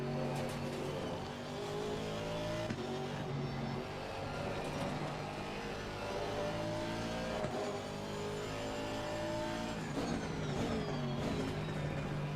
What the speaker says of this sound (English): It accelerates so much better out of the chicane